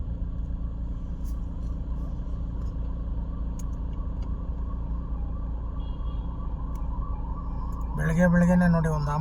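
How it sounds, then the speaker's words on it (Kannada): Ambulance siren in morning city traffic at a junction in Jayanagar, heard under steady road rumble, rising loud and close near the end as it passes. "ಬೆಳಗ್ಗೆನೇ ನೋಡಿ ಒಂದು ಆಂಬುಲೆನ್ಸ್."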